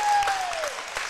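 A crowd at a high school basketball game, Valley Springs at Yellville, claps and cheers in a short, dense burst of applause. A whistle-like tone slides downward over the noise.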